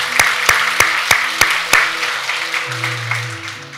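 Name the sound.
congregation applause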